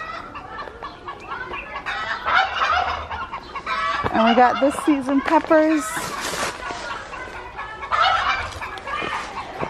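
Chickens cluck and squawk close by in several bursts in a carrot garden, mixed in with a person talking over them outdoors.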